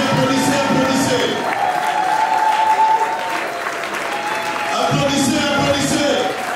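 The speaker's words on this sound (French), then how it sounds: "Applaudissez, applaudissez, applaudissez." Dense audience applause and cheering for government ministers at a political gathering in the Grande Province Orientale, sustained and loud throughout, with voices and shouts mixed into the clapping.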